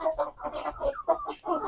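Chickens cluck busily while pecking at fresh moringa leaves, a close, rapid run of short throaty calls with no pauses.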